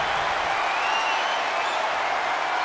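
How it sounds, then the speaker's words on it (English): Wrestling arena crowd at a WWE Iron Man match roaring and applauding in a steady, dense wash of noise that holds at full loudness throughout, with no clear single voices standing out. "The roar of this crowd has been building, and they are in a fever pitch right now."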